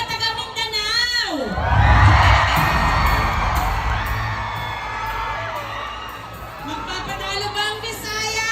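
A large crowd of delegates at a national youth gathering yells and cheers in a loud, sustained roar that swells and slowly fades, with whoops and shrill shouts throughout and a voice over the hall's sound system.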